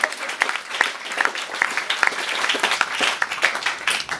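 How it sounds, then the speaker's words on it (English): A comedy club audience at a stand-up set supporting Planned Parenthood bursts into applause, dense clapping with distinct sharp individual claps standing out in an irregular rhythm, steady and fairly loud throughout. "And you should all be clapping for this."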